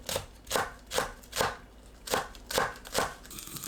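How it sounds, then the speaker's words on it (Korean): A knife chops green onion finely on a cutting board in a steady run of about eight crisp, close taps spaced roughly half a second apart, with no voices. "파를 작게 썰어줍니다."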